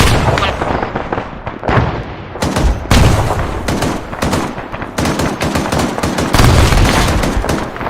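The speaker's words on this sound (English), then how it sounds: "They are shooting RPG." Dense, loud battlefield gunfire from the ArmA 3 video game, with rapid automatic bursts and heavy blasts from RPG launches and impacts overlapping continuously throughout, with no pauses.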